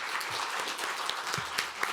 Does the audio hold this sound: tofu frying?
no